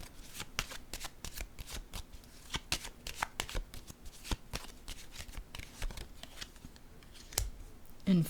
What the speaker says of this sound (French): Je vais déposer une carte ici sur le cercueil